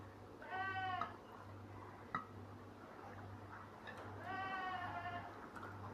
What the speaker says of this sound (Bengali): বাইরে ছাগলগুলো যা ডাকে পাশে।